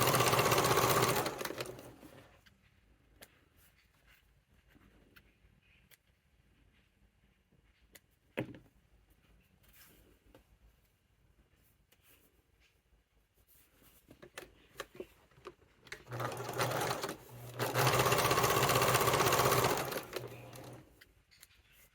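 A sewing machine top stitching the ends of a fabric satchel in two loud bursts of rapid stitching at start and end, with quiet handling and small clicks between.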